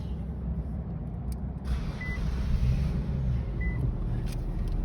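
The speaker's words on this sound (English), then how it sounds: "We're gonna need to turn the car on." An Infiniti Q50 car engine idles steadily after being started, a continuous low rumble close by with a slight swell partway through.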